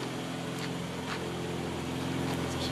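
A 1982 BMW 325 idles in a garage, its exhaust giving a steady, even low hum with a fine regular pulse, close and unchanging, with no voices over it.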